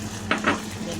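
Filipino-style spaghetti sauce seasoned with black pepper sizzles in a pan while it is stirred, with two short scraping strokes over a steady background sizzle.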